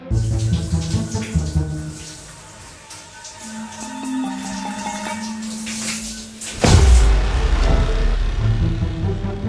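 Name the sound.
shower water running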